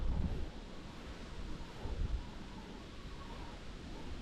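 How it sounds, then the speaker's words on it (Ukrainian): Low, steady wind rumble buffeting the microphone on the bank of the Prut River while fishing, faint and continuous with a few stronger gusts, no voices. "Вітер заважає."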